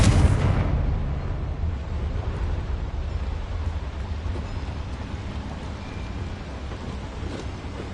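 Confringo blasting spell in the Hogwarts video game: one sharp, loud explosive burst at the start that decays into a long, rumbling, fading roar, with no talk.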